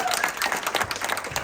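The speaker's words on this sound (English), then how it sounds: "So give them another round of applause." Audience applause at a startup pitch event, a short burst of crowd clapping with some voices mixed in, moderately loud throughout.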